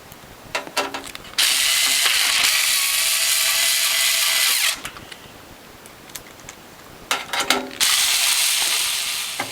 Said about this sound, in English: the last step, and we're done, is to put in the 2 screws